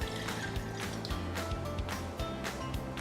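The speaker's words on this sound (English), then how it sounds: "So you're gonna pour, this is 1 cup of water," Water is poured from a one-cup measure into a pot on a stovetop for a sugar syrup, giving a steady close trickle and splash that runs for the whole span without talk.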